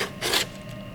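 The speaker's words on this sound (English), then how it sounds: "I've got a block with some sandpaper, and all I'm going to do is take my sandpaper" Sandpaper wrapped on a block is rubbed along the edge of a sneeze guard panel in one short, close, raspy burst of scraping, then quiet.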